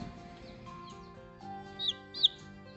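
A young backyard chicken gives a few soft, quiet clucks and chirps near the end, close by against a faint steady background hum.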